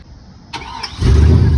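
A GMC Sierra 2500 pickup with a 6.0 engine cranks briefly with a whirring starter, then catches and settles into a loud, close, deep rumbling idle.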